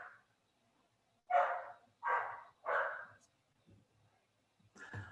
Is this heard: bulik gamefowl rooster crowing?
no